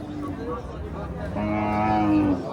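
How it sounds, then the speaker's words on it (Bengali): A cow moos at a Frisian cow market, a drawn-out, fairly loud low call that rises and swells toward the end over a steady hum of market noise. "দেশি গাই"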